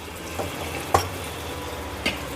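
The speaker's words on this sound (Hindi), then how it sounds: "इसे हमें जब तक भूनना है जब तक हमारे टमाटर हैं अच्छे से सॉफ्ट नहीं हो जाते" Salted tomato masala fries in a pan for paneer curry, a steady close sizzle punctuated by a few sharp spoon knocks and stirs, with no talking.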